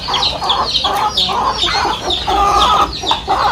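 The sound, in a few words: chickens clucking while eating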